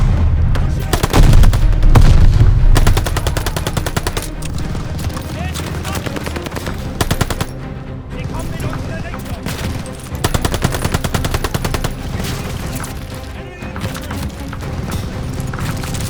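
Machine gun fire from the Call of Duty Vanguard game, loud dense bursts of automatic shooting running throughout alongside other gunfire and battlefield noise, with voices shouting over the combat.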